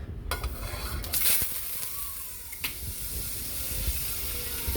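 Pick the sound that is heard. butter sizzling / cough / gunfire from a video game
butter sizzling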